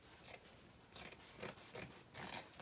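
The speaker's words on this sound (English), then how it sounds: "I'm going to trim my sides just because I have that excess interfacing" Scissors trim excess interfacing from the sides of a fabric pattern piece for a wristlet wallet. About five quiet, rhythmic snips come in quick succession, close to the listener and with no voice.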